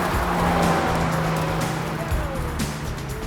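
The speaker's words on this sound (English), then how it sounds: "people love the sound of the exhaust" A Ferrari sports car engine growls loudly nearby, with exhaust roar and a pitch that sweeps upward as it revs, over a rushing road-noise background.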